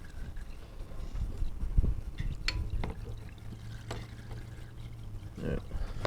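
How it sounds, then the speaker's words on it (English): Engine oil trickling and pouring out of an undone car oil filter housing into a drain pan during an oil change, a steady moderate liquid flow with faint metallic handling noises. "Undo this and let all that drain out."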